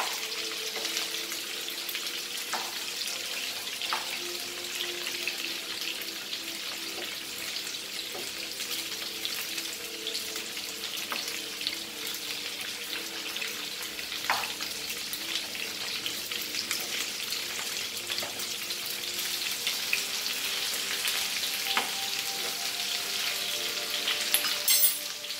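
Potatoes and cauliflower fry unsalted in oil for aloo gobi, a continuous soft sizzle and crackle with scattered sharp pops and occasional stirring scrapes, steady throughout and with no voices.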